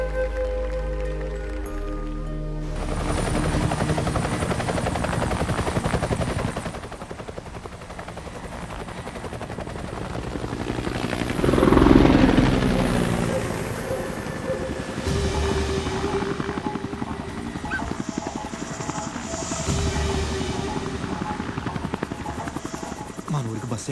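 A helicopter arrives over a village in a film scene, its rotor thumping steadily and swelling loudest around the middle before holding at a strong level, with people's voices mixed in.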